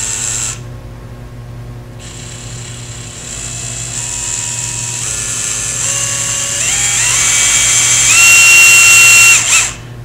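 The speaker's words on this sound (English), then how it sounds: "I have a number 50 drill bit in my drill, which is going to be a large enough hole that all the wires will go through." Power drill fitted with a number 50 bit boring a hole into a round surface, a steady close whine that runs for several seconds and climbs in pitch as the cut goes on, then cuts off.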